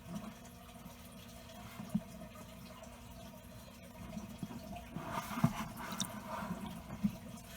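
Water sloshed by hand in a home aquarium used for breeding RL144 bristlenose plecos, giving soft, low splashing and trickling that swells in the second half with a few brief sharper splashes, fairly quiet throughout.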